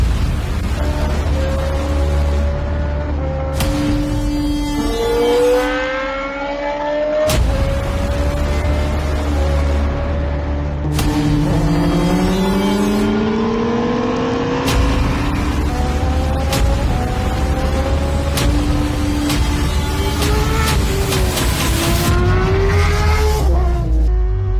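A 2024 Kawasaki ZX6R 40th Anniversary Edition sportbike with modifications revs hard at a dealership in Rome, Georgia, its high-pitched engine climbing and dropping through repeated loud sweeps, with sharp blips and falling notes close to the microphone.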